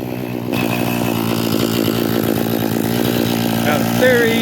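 A Husqvarna T435 chainsaw engine runs close and loud during a brake-clean air leak test, a steady high buzzing drone with slight rises in pitch, and a voice talks over it.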